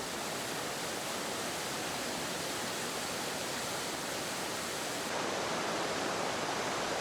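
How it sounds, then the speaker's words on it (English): A small waterfall, about six meters high, spills into a swimmable pool at Emerald Pool, giving a steady, dense rushing roar that continues unbroken with no voices. "Emerald Pool is a small waterfall, 6 meters high"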